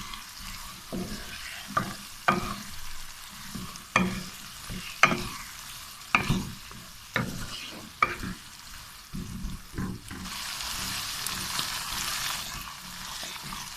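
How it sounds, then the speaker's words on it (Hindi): Tomato puree stirred into spice masala in a frying pan for aloo gobi, with repeated spoon scrapes and clinks in a steady rhythm over a soft sizzle, close and fairly loud, no talking. "और इसको भी अच्छी तरह मिक्स कर लेते हैं।"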